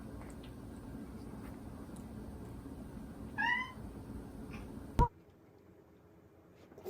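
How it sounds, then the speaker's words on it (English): A cat gives a single short meow at moderate distance over a quiet indoor room hum, followed by a sharp thump and then near silence. "My cat's a little needy."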